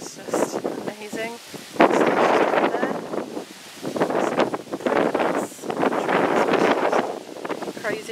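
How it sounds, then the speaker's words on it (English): Wind buffets the microphone on a beach walk in Mexico, rumbling in loud gusts between stretches of talk. "It's just a bit windy."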